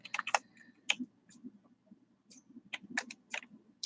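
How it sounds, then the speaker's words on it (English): Quick, irregular bursts of keys clacking on a computer keyboard, close by and fast, with short pauses between runs of typing. "I'm typing faster than my computer is picking it up."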